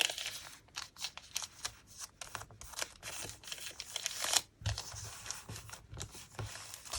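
Paper being creased and folded by hand while making a paper bag: a close run of dry crinkles, rustles and sharp creasing snaps, irregular and separated by brief pauses, with no voices.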